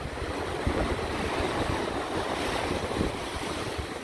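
Sea waves wash steadily onto the shore, loud and close, with wind buffeting the microphone and no voices.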